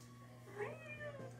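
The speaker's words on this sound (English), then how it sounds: "Are you a nice cat?" A house cat perched on the stairs gives a couple of short, fairly close meows over a steady low electrical hum, with no one talking.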